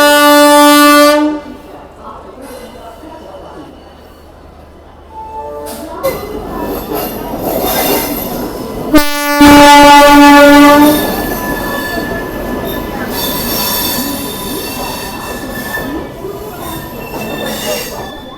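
The 12302 Howrah Rajdhani train pulls away from a station platform, its wheels squealing in loud sustained tonal screeches over rumbling carriages, with a horn-like tone and a nearby voice talking intermittently.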